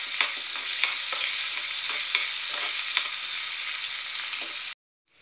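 Onions sauté in groundnut oil with a steady soft sizzle, broken by regular clinks and scrapes of a spoon stirring the pan, before the sound cuts off abruptly.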